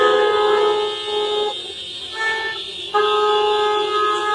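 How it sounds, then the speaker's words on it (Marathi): Car and vehicle horns blare in long, overlapping held tones from a queue at a petrol pump in Nanded during a fuel-shortage protest. The honking dips briefly twice, then resumes loudly, with no talking. "नागरिक या ठिकाणी हॉर्न वाजवून आपला निषेध व्यक्त करत आहे"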